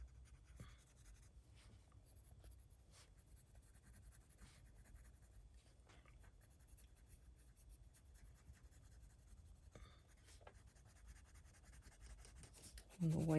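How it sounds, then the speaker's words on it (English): A white colored pencil blends color on paper with soft, continuous rubbing strokes, faint and close, plus a few scratchy accents. A low background hum runs underneath, and a brief louder sound comes in at the very end. "And the white pencil is really blending it out nicely."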